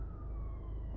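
An ambulance siren sounds from behind on the street, a steady tone that gradually descends in pitch as it passes over low traffic rumble.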